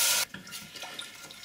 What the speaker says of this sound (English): there's 100 mils of stock going in here